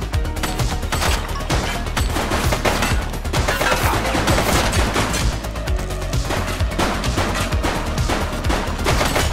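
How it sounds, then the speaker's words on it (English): A dense, loud fusillade of gunshots from a fleeing suspect in the police game The Precinct, overlapping bursts crackling continuously with heavy low rumble and no pauses. "He's shooting!"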